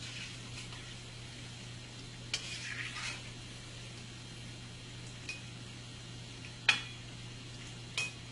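Besan pakoras frying in hot oil, a quiet steady sizzle broken by a few soft clinks and scrapes as they are stirred in the pan.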